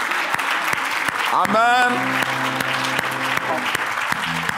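A church congregation claps and cheers throughout a Sunday worship service, a steady roar of applause with a voice speaking and singing over it.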